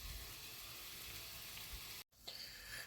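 Ground beef frying in a pan, a loud continuous sizzle and crackle filling the whole stretch, with a brief cut to silence near the end before the sizzle resumes.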